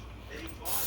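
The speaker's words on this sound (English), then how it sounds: "I'm going to spray it with a little bit of cooking spray" Cooking spray is released onto a warming skillet in a short, sharp aerosol hiss that starts abruptly and stays close and fairly loud through the end of the brief burst.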